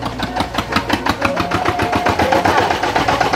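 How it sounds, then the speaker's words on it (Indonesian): A brick-making machine runs steadily at a brick production site, giving a loud, continuous mechanical chugging with a fast regular rhythm throughout. "Ini caranya pakai mesin."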